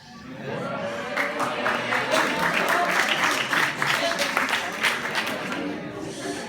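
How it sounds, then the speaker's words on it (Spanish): An indoor talk audience gives partial, scattered applause, a moderate patter of clapping that builds and then fades over several seconds, with some crowd murmur mixed in. "Veo que no todos aplauden"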